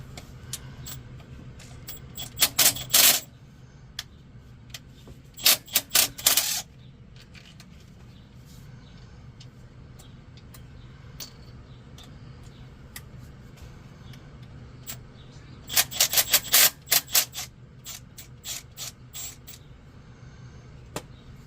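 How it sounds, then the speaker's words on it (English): A battery-powered ratchet works on a Caterpillar C7 ACERT turbo in an RV engine bay, firing in three short clusters of rapid clicking bursts against a quiet background hum, with no one talking. "You got see that little ratchet, the battery ratchet?"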